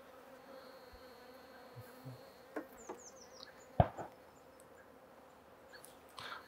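Honey bees crawl over a hive frame holding the queen and queen cells during a hive inspection. A faint, quiet buzz runs throughout, with a few soft knocks and taps scattered through it.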